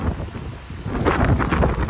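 Strong wind on the outskirts of a town buffets the microphone with a loud, continuous rumbling roar that surges and gusts throughout.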